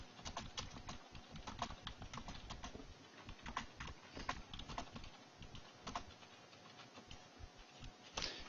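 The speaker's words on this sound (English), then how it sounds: "Oh, now she's typing." Rapid, uneven keystrokes on a computer keyboard, close and clear, with scattered louder taps over a quiet room background during an online tabletop role-playing session.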